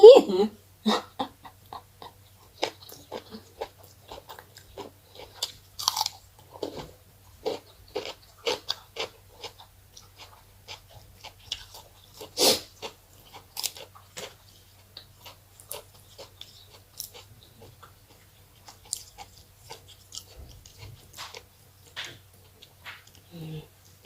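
Someone chews hot sticky rice with a pork and bamboo-shoot coconut-cream dip, making soft, sticky clicks and smacks close to the mic in an irregular rhythm. A few quiet spoken words come between bites.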